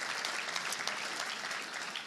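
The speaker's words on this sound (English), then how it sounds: "can we give a round of applause to them as well?" An audience at an annual charity fundraiser applauds steadily, a dense, even wash of clapping from many hands with no voices standing out.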